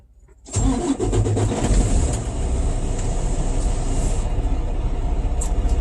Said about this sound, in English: then I'm going to turn the truck on